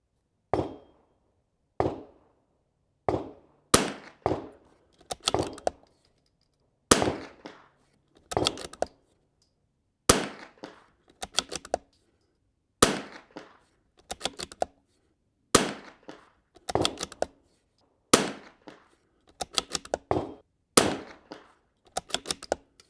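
A rifle fires ten .340 rounds at an outdoor range, each a sharp, loud crack spaced a second or two apart, several followed by quick clattering action noise, with no talking.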